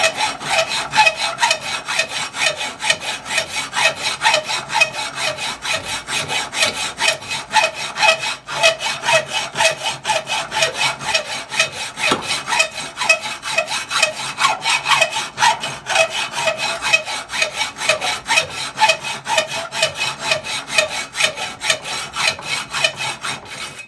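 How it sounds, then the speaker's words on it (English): Fine tooth 12-inch hacksaw with 32 teeth cutting metal held in a vise, a long run of fast, even back-and-forth strokes, close and steady throughout with no talk. "12-inch hacksaw, 32 teeth. It's a fine tooth hacksaw."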